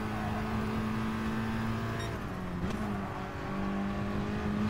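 A VW Scirocco Gr4 race car engine in the video game GT Sport, droning steadily at part throttle, with a brief dip and recovery in pitch partway through and no talk.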